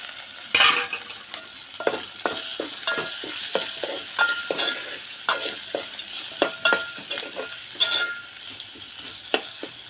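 Tomatoes for khichdi fry in a pan with a constant sizzle, broken by frequent clacking stirs of a spoon against the pan.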